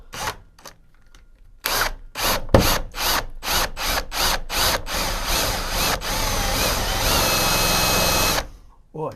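A power drill drives a self-tapping screw through two stacked pieces of aluminum on a GMC motorhome, with loud, close bursts of whirring in short rhythmic pulses, then one long continuous run before stopping.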